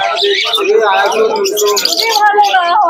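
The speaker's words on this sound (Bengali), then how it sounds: "কবুতরগুলো দেখুন" Pigeons coo and chirp up close among a busy babble of voices at the Krishnanagar pigeon market, with overlapping calls throughout.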